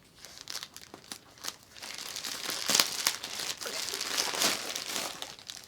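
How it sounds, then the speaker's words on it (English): A plastic mystery yarn package is opened by hand: steady crinkling and crackling of plastic with small tears, close and moderately loud, with no talking. "I'm still trying to open the box, or open the package carefully without ripping the yarn"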